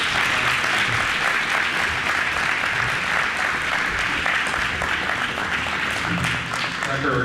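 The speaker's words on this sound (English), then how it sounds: "How about another round of applause for you?" A crowd at a school district farewell ceremony applauds, a thick, continuous wash of clapping that holds at a constant level from start to finish.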